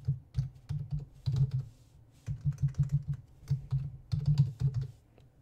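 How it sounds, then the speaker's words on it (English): Quick, close bursts of keystrokes on a computer keyboard as Python Selenium code is typed, clustered clacks with short pauses between words, no talking. "I'm just gonna type it out."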